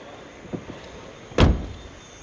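A Possl Summit 600B Plus campervan door shuts with a single solid thump partway through, followed by a brief rattle that fades into quiet background hum.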